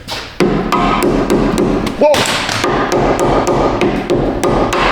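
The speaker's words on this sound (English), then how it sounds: "We'll get a plastic hammer." Plastic hammer tapping a ball joint into place on a Ford EcoSport front suspension, a few sharp knocks over steady workshop noise, with a man exclaiming briefly between the hits.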